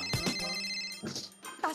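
A telephone rings in the home setting of a Marathi TV serial episode, a repeated electronic ringtone with short bursts sounding fairly close against quiet background, with brief pauses between rings.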